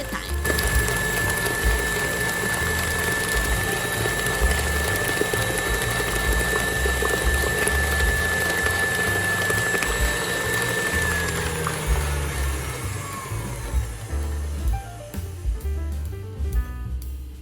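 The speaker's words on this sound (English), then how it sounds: "we're going to beat in the eggs one at a time" An electric mixer beats eggs one at a time into Basque burnt cheesecake batter, a loud steady motor whine with churning that runs continuously, then slows and winds down near the end.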